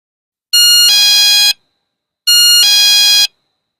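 A motion-sensor anti-theft alarm, sold as a cattle-theft device, gives two loud, close electronic chime-like rings, each about a second long, with a short silent gap between them.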